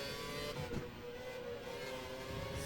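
Formula One car engine in the racing video game F1 2012, a steady high-pitched, sustained whine at moderate loudness with slight pitch shifts as the car drives.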